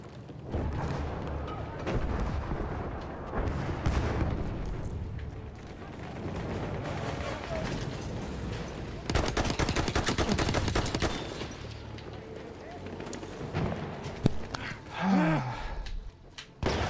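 Gunfire in the Battlefield 1 video game, a dense run of repeated shots and bursts mixed with battle noise, loudest and sharpest in a heavy volley partway through.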